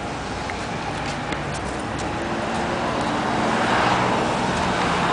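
Steady city street traffic in San Diego, a continuous roar of passing cars heard alone, building slightly louder toward the end.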